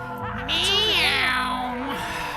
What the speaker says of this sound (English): I want to know who did the voice of that cat